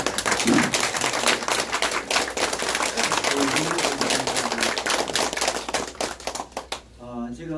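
A seminar audience at a human rights seminar claps for a board member, a dense, steady patter of many hands that fills most of the stretch before tapering off near the end, where a voice begins speaking.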